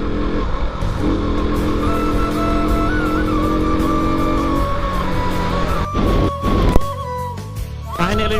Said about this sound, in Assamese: পুৰা মিছ মাৰিছে বাইকটো